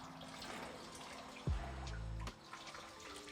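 Water dripping and trickling into a backyard tilapia and catfish tank, a steady close patter of small drops with a brief heavier splash partway through, heard alone without talk.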